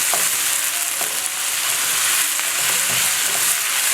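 Fried rice sizzles loudly in a hot pan over high heat, a constant close crackling hiss with faint stirring scrapes and no talking.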